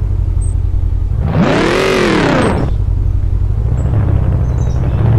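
In the Car Parking Multiplayer driving game, a car engine, either a BMW F90 or a 240, revs up loudly in a single rising and falling swell, then settles back to a steady idle rumble.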